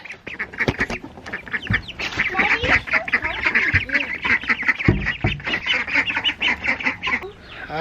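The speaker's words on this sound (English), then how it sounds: "Can we see the baby ducks?" A flock of baby ducks quacks and peeps busily and continuously nearby on a homestead, with a person's voice briefly mixed in.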